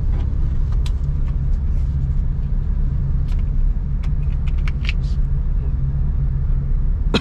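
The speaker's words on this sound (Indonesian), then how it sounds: "Tambah gas. Lepaskan sampai penuh koplingnya." A manual car pulls away in town traffic in Kudus, Indonesia, as the clutch is released. A steady, close engine rumble with low drone runs throughout, with a few brief rattles and knocks on top.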